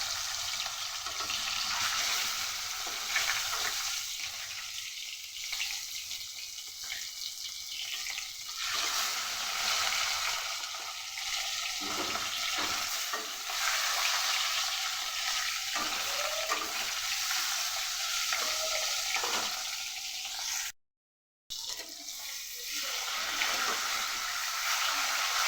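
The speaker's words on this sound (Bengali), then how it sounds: "প্রথমে ভেজে নেব মাছগুলো" Fish rubbed with turmeric and salt fry in hot oil in a wok, giving a continuous soft crackling sizzle with faint bubbling, fairly quiet and close, briefly cut out near the end.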